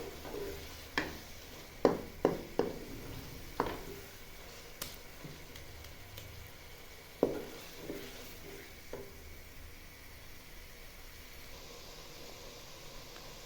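Ginger-garlic paste and finely chopped green garlic roasting in a pan for curry pakora, a low steady sizzle broken by several sharp stirring clacks early on, then quieter frying.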